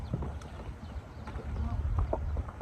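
A horse's hooves walk in a round pen, producing soft irregular thuds on dirt footing, fairly close and moderately quiet, with faint background sounds and occasional low speech-like noise.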